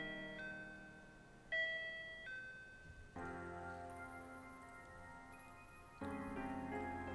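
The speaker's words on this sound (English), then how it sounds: "When I pressed the doorbell" A doorbell is pressed at a large estate, sounding as a series of clear electronic chime tones that ring out one after another over a quiet background and overlap as they decay.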